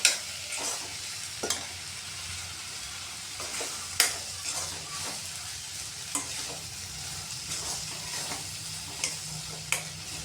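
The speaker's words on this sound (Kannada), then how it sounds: "ಸ್ವಲ್ಪ ಫ್ರೈ ಮಾಡ್ಕೊಳ್ಳೋಣ." Ivy gourd pieces coated in sambar powder fry in a pan for a tondekayi palya, with a steady sizzle and repeated sharp scrapes of a spatula stirring at irregular intervals.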